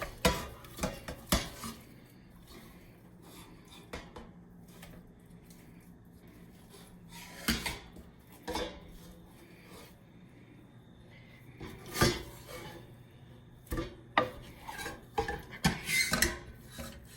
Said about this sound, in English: It's getting a little bit harder for me to stir it because it's getting nice and thick.